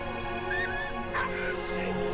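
A dog whines and whimpers in the Valiant Hearts 2 video game, a few high wavering cries over a steady game soundtrack, close and fairly clear.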